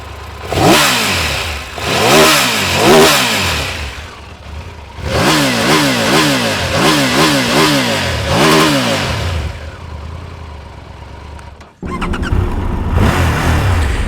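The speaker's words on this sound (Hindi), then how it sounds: "आपको इसका एग्जॉस्ट नोट सुनाता हूँ" A Triumph Tiger 1200 Rally Explorer motorcycle engine revs repeatedly in sharp bursts, its exhaust barking and falling back to idle between blips, loud and close, then settles into a steady rumble.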